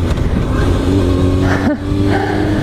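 A motorcycle rides steadily through a roundabout, its engine note droning continuously and loud up close, with a brief dip in the middle as it leans through the curve.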